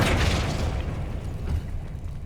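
A Flipendo spell is cast in the video game Hogwarts Legacy as a single deep, booming burst that fades quickly into a rumbling tail.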